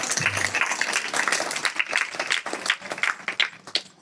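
A church audience claps together in praise of God, with dense, sustained applause that runs throughout.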